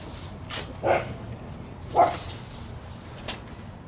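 A dog barks twice at a distance, a few seconds apart, with a faint third yip afterward over quiet outdoor background.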